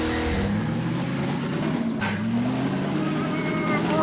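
A vehicle engine in a Half-Life 2 mod revs and drones steadily as turbo is engaged, its pitch rising and falling, with a voice speaking over it.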